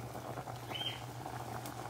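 Malunggay soup with milk simmers in a pot with a soft, steady bubbling that stays faint and close, broken by a thin high squeak near the middle, with no voices.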